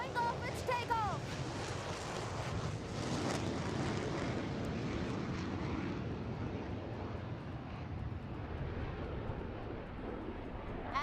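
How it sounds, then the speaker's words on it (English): A Tejas fighter jet taking off at the Aero India air show at Yelahanka air force station, a broad steady jet roar filling the whole clip, loud and sustained, with wind buffeting and a commentator talking over it. "And here she goes, Tejas showing off its takeoff."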